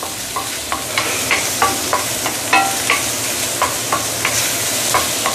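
Garlic, ginger and green onion sauté in a pan under a loud, continuous sizzle, punctuated by a regular run of sharp spatula scrapes and taps roughly every half second.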